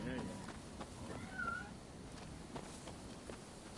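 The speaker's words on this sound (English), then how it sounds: "I hear a cat." A cat meows once or twice in a noisy room, with a short rising-falling cry standing out from steady background noise and nearby human voices.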